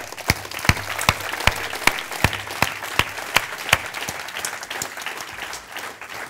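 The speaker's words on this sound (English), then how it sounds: "Round of applause, man." Audience applause at a live event, a steady wash of clapping punctuated by sharp, regularly spaced loud claps that stand out close by.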